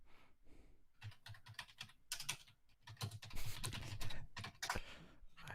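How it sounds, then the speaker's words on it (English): Someone types on a computer keyboard, a close, quick run of clicking keystrokes in uneven bursts that grows denser toward the end. No voices are heard. "I hear you typing."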